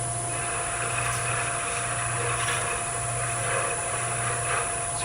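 A small wooden miniature being hollowed on a lathe gives a steady hum of the spinning machine with soft, intermittent scraping from the tool cutting inside, fairly quiet and continuous.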